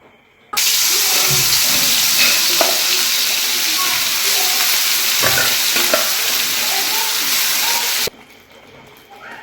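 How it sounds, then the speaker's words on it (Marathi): Spice paste hitting hot oil for an okra curry, a loud sustained sizzle and fry that bursts in abruptly and holds steady for about eight seconds, with occasional stirring scrapes, then cuts to quieter background. "तेल गरम करून घेतलं मी। आता त्याच्यामध्ये हे पेस्ट टाकणार आहे।"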